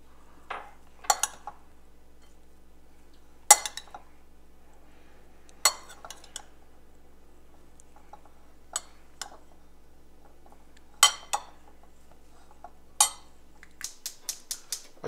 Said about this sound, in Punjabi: ਹੁਣ ਅਸੀਂ ਇਹਦੇ ਵਿੱਚ ਮਸਾਲਾ ਮਿਕਸ ਕਰ ਦਿਆਂਗੇ